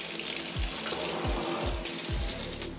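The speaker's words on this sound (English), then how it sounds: "I love this faucet." Water runs steadily from a kitchen faucet into the sink in a renovated home, a close, continuous rushing stream with a few low thumps as it splashes, no talking.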